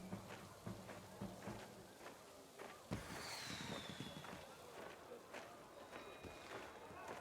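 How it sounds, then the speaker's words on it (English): Fireworks in the city-building game Anno 1800 pop and crackle in scattered bursts with a rising whistle partway through, mixed with game ambience while someone talks over them at low overall volume. "Let's watch the fireworks."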